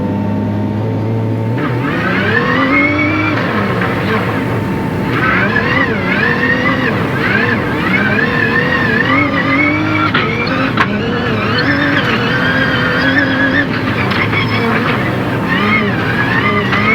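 A car engine revs and strains steadily with rising and falling pitch, tires scrabbling over rough ground on the Nürburgring off-road track, loud and close throughout.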